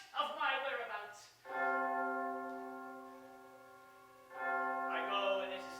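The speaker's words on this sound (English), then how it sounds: "The bell invites me" A single deep church bell tolls as a slow knell, one long sustained ringing stroke that hangs and decays, framed by voices on either side.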